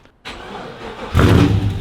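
Boosted Ford XY Falcon drift car cranking over and firing, a short starter whir then a loud, close engine catching and rising into a rough, booming idle in a backyard shed.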